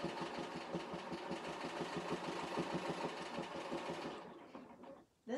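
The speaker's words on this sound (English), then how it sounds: "When you sew with jeans, just go at a slow pace." Bernina sewing machine double-needle stitching through denim jeans at a slow pace, a steady close mechanical whir with rapid needle ticking that runs for about four seconds, then slows and stops.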